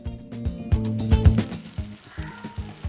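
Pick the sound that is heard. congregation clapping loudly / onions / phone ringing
onions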